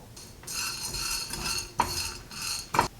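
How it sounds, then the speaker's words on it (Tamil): Fenugreek seeds, roasted gram and black pepper dry roasting over medium heat in a pan, with steady scraping and stirring and two sharp metallic clinks of a spoon against the pan, no talking. "அதே மிதமான சூட்டில் வெந்தயம், வறுக்கடலை, அப்புறம் மிளகு இது எல்லாத்தையும் போட்டு ஒன்றா வறுத்துடலாம்"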